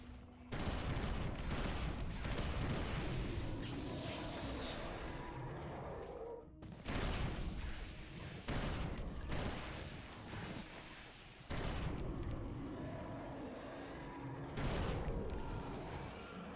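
Gunfire in the video game Eternal Darkness: Sanity's Requiem, loud rapid volleys of shots in long bursts broken by brief pauses, with no voices.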